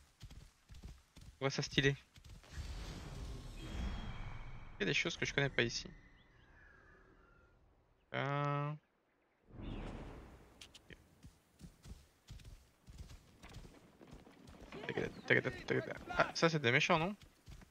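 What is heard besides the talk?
horse hooves while riding in Assassin's Creed Origins video game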